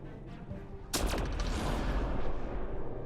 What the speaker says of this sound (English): Are you setting off biotic explosions from inside the shuttle?